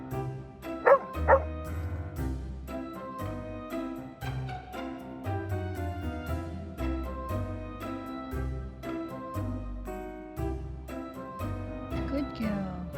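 A dog barks twice in quick, loud bursts near the start, then goes quiet while steady music plays in the background for the rest of the stretch.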